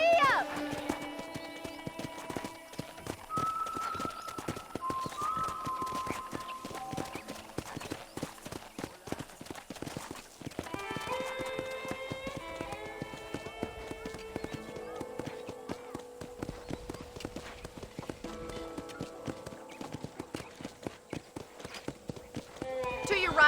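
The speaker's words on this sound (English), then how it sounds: "I picked out a fine horse for you." A horse in the Red Dead Redemption video game clip-clops along in a steady rhythm of hooves, close up, under people talking and soft music.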